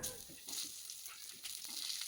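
Grated coconut frying in a little oil on a tawa gives a faint, steady sizzle, with light scraping from stirring.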